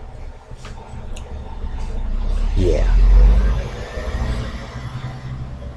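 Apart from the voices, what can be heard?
truck driving past an open window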